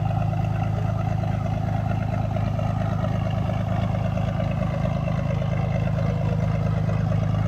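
A boat motoring through Nagapattinam harbour, its engine a steady low throbbing hum, continuous and moderately close with no talk.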